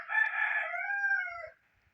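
A rooster crows once, loud and close, a long drawn-out cock-a-doodle-doo lasting about a second and a half before fading to quiet.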